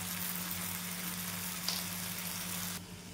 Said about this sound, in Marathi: कढी पण छान शिजत आहे आपली, छान शिजू द्यायची कढी।